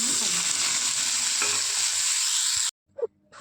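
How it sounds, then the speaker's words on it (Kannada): Chopped tomatoes fry on a low flame with a steady, close hiss and faint stirring. The sizzle cuts off abruptly near the end, followed by a brief clatter and near silence. "ಸ್ವಲ್ಪ ಲೋ ಫ್ಲೇಮ್ ಒಳಗೆ ಇಟ್ಕೊಂಡು ಹುರಿಬೇಕು ನೋಡ್ರಿ"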